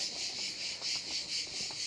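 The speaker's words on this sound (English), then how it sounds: "You can hear the crickets." Crickets chirping at night in Capri, Italy: a steady, dense high-pitched trill in pulsing waves, alone and at moderate level with no talk.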